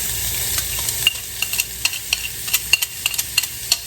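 Chopped green pepper and onion sauté with potatoes for a breakfast hash, a bright continuous sizzle punctuated by quick, regular clicks and scrapes of a spatula against the pan, close up.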